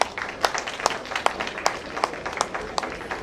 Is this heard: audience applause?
yes